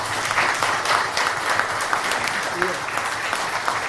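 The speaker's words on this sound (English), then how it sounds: "I'd prefer if you didn't clap, okay?" An audience at an Irish talk on political censorship and free speech claps steadily, a dense run of applause that holds at an even level for the whole stretch with no voice over it.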